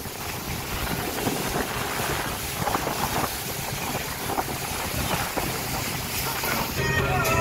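Steady outboard engine drone of a motorboat carrying about ten people under way in Crimea, with constant wind buffeting and water rush throughout, loud and close.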